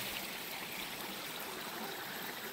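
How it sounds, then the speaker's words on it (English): A small mountain creek flows along a hiking trail, making a steady, even rush of water that fills the whole moment without pauses or voices. "We're fixing to walk over this beautiful little creek."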